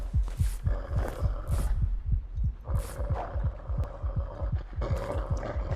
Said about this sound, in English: you can hear the Coast Guard's heart pounding out of his chest